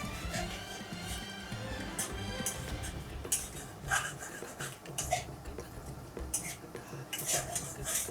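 Whole spices frying in a pan as a utensil stirs and scrapes against it, giving faint, irregular metallic clinks and rustling with a soft sizzle underneath.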